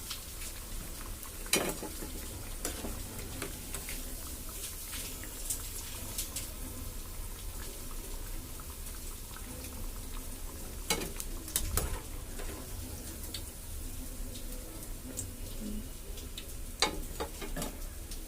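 Snack balls deep fry in hot oil with a constant bubbling sizzle, broken now and then by sharp clinks and scrapes of a utensil against the pan.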